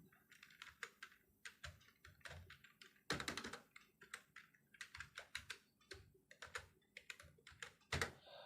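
Computer keyboard typing as a paragraph is entered into a word processor: steady, quick key taps in uneven bursts, close and fairly quiet, with a couple of heavier strikes standing out, no talking.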